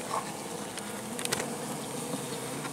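Close, steady buzzing of honey bees at a hive, a continuous droning hum with small flickers as insects move around nearby.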